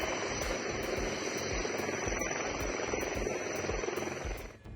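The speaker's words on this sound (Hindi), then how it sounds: "जो एडवांस लाइट हेलीकॉप्टर आप हमारे पीछे देख रहे हैं, इसको ध्रुव भी कहते हैं।" A HAL Dhruv advanced light twin-engine military helicopter near the Line of Actual Control runs steadily, its dense engine roar overlaid by a regular, rapid rotor thump that holds throughout and eases slightly at the very end.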